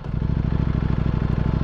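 A 2023 Ducati V4R motorcycle engine on its stock exhaust idles and blips with a deep, steady, pulsing throb. It is loud and close, with no voices.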